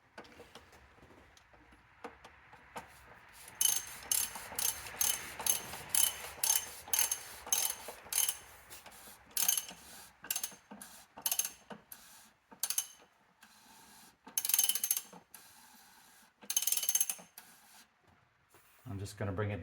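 A ratchet with a 24 mm socket tightening the oil filter cover on a Jeep Wrangler, giving fast bursts of clicking in uneven runs, close and fairly quiet.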